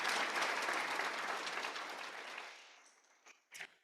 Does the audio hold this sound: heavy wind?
no